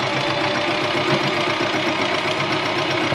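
A sewing machine stitches along the edge of a blazer, giving a continuous, fairly loud motor whir with a fast even mechanical chatter of the needle throughout, stopping abruptly at the end.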